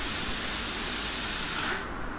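Loud, close pressure cooker whistle from a home kitchen, a steady piercing steam hiss that cuts off abruptly near the end, leaving faint room noise.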